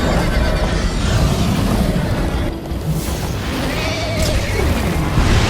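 In Minecraft Story Mode, a horse whinnies several times amid a loud, crowded action mix of galloping hooves and rumbling booms.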